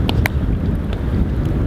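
Wind blows outdoors during a 600 km canoe expedition along a northern river, a steady, loud low-frequency buffeting across the microphone with a couple of faint knocks near the start.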